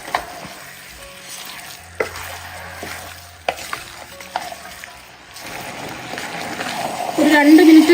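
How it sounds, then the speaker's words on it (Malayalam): Mutton pieces are stirred and fried in a pan for a Ramadan meal, with a continuous sizzle, a few clattering knocks from stirring, and the frying growing louder toward the end. "ഒരു 2 മിനിറ്റ് ഇളക്കി കൊടുത്ത് ഈ മട്ടനൊക്കെ നല്ലതുപോലെ ഒന്ന് ചൂടാവണം."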